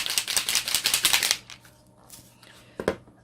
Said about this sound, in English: you can shake it up until you hear that ball clicking